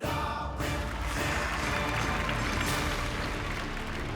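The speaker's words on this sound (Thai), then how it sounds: "ขอเสียงปรบมือดังให้กับคุณจอยครับ" A studio audience applauds a contestant named Joy on a Thai code-breaking game show, a dense, even roar of clapping that holds steady throughout.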